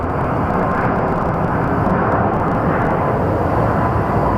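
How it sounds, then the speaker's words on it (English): An airliner taking off at Phoenix Sky Harbor Airport, its engines giving a loud, close, continuous roar that stays steady throughout with no voices. "let's get this plane airborne"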